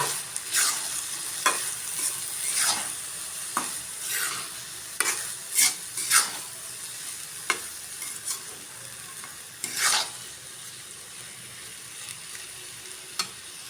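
A spatula stirs turmeric, salt and coriander powder in a hot frying pan, giving a steady sizzle punctuated by sharp scraping strokes at an irregular pace, close and alone.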